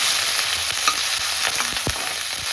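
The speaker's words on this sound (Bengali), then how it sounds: "এখন তেলের মধ্যে আমি নিম পাতাগুলো ভেজে নিচ্ছি" Neem leaves frying in hot oil, a steady broadband sizzle with a few soft clinks and scrapes of a spatula stirring, close and continuous with no talking.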